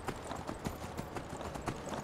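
Horse hooves clip-clop in Skyrim Special Edition on the Pale Pass, a steady, fairly quick run of close, rhythmic thuds filling the whole moment with no one talking over it.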